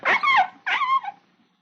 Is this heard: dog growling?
yes